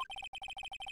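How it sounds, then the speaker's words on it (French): A mobile phone ringtone from the Phoenix Wright: Ace Attorney video game plays as a short, quick run of repeated electronic beeps in an even rhythm, alone and faint. "Je connais la musique de votre sonnerie de portable."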